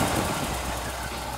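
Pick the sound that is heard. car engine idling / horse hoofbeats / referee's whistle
car engine idling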